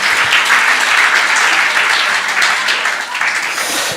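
Steady applause from a church congregation, with dense clapping from many hands, loud and close, filling the room without pause and easing slightly toward the end.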